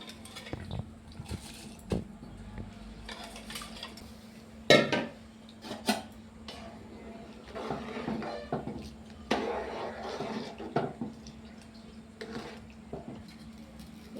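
Rice and chana dal are added to a cooking pot, giving scattered clinks, rattles and pours of grains against metal at intervals, close by, over a low steady hum, with no one talking.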